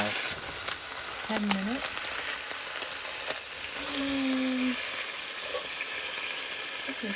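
A pot roast sears in a cast iron Dutch oven with a steady, soft sizzle and crackle running throughout, while a person speaks briefly and faint tonal beeps sound in the background.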